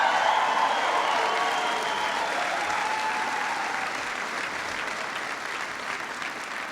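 A large crowd of troops at an Osan Air Base rally applauds loudly and continuously, dense clapping that slowly fades a little over several seconds, with scattered cheers mixed in.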